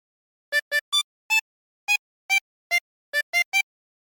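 A harmonica plays a short melody, about ten separate, clear notes, each brief and evenly spaced. The instrument is heard alone, close and steady.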